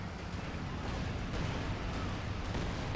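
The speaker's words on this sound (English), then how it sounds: "it's the Fox Grenadier with the Calliope. Very defensive barrage" A Calliope rocket artillery barrage in a video game, a steady distant roar of overlapping launches and blasts forming a continuous rumbling wall of noise for three seconds, fairly quiet.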